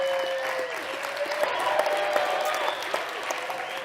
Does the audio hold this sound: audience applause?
yes